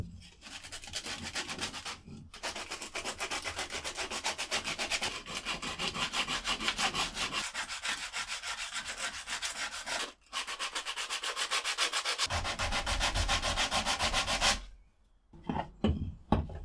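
Rhythmic back-and-forth sanding of scrap wood bookends, a fast, steady scratchy rasp that stops briefly a few times before resuming, then ends in a few scattered handling knocks.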